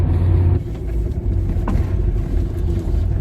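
An old car driven for the first time in 12 years, its engine rumbling loud and close with a brief wheel spin as it pulls away.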